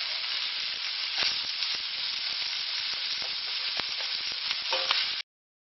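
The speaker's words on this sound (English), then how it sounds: "Now add in your onions and cook them off for a couple of minutes." Onions frying in a pot alongside kangaroo meat for a slow-cooked stew, a loud, continuous close sizzle with scattered crackles and pops, ending abruptly, with no talking.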